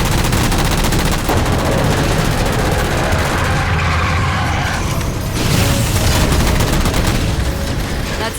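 Rapid gunfire rattles continuously as jammers are shot down in Halo 4, with dense bursts of automatic shots and mechanical clatter, loud and unbroken throughout, with no voices.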